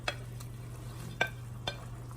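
Bacon jam mixture with paprika simmering and being stirred in a pan, a low bubbling sizzle under steady hum, broken by three sharp scraping stirs of a utensil against the pan.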